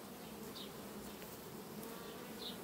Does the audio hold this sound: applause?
no